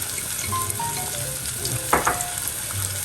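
Mushrooms and garlic fry in a pan with a steady, close sizzle and one brief stir or toss near the middle.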